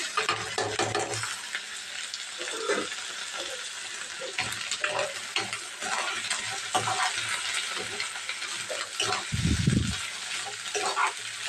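Ingredients sizzling steadily in a hot pan while a spoon stirs and scrapes through them in intermittent strokes, close and fairly loud, with a short heavier clatter near the end and no talk.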